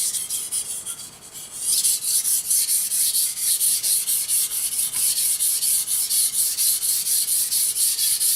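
Knife blade sharpened on a Japanese Chroma P35 water stone (1000/3500 grit), a close, continuous rhythmic scraping rasp of steel rubbing back and forth on wet abrasive, strokes quickening after a quieter start, with no voices.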